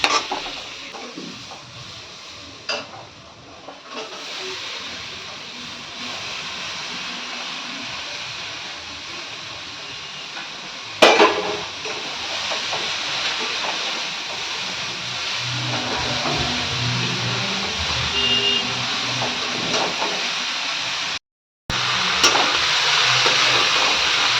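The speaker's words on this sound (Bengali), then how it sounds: "মশলা কষানো হয়ে গেছে আর এবার দিয়ে দেবো বাঁধাকপি" Shredded cabbage tossed into a pan of fried spices and stir-fried, giving a low continuous sizzle with occasional spatula scrapes and clatters, moderately close with no talking.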